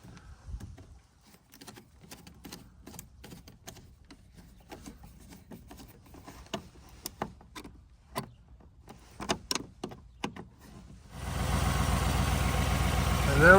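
After a serpentine belt replacement, a Chevy Tahoe engine cranks and starts, then settles into a loud, steady idle. It follows scattered clicks and taps from the work.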